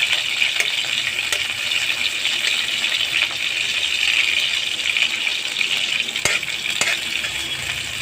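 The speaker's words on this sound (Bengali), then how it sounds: "এবার খুন্তি দিয়ে ভালো করে নাড়ছি চামচ দিয়ে।" Onions and green chillies fry over a high gas flame with a loud, constant hiss. A spatula scrapes and clicks against the pan now and then as they are stirred, with no voices.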